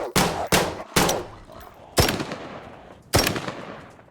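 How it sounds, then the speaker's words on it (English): Gunfire in the DayZ video game, with new weapon sounds such as the AK-74 and M16: five loud, sharp shots spaced irregularly, each with a long reverberant tail that rings out between them. "The devs said new gun sounds were in this patch too,"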